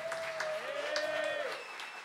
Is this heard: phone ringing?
no